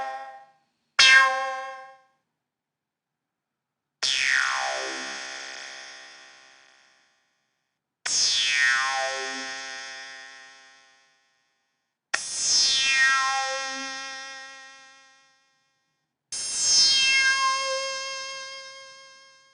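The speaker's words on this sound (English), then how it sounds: "Let's listen to a few of these sounds from the Wasp." An Electric Dream Plant Wasp synthesizer plays a series of separate bright, buzzy tones, some sweeping downward. Each note rings out alone and decays before a short silence.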